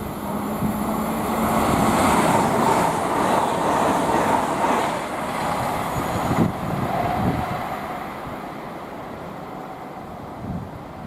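A Class 802 train passing through West Ealing on the Great Western Main Line, a broad rushing roar that builds and then fades with faint rail clatter, heard alone.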